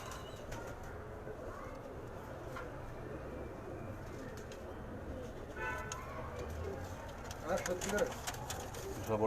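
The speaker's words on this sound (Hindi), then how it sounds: "आप जी भर के इन कबूतरों को देखें" Pigeons coo softly amid a steady outdoor background in Karachi, with flapping wings and street noise; a few brighter calls rise toward the end.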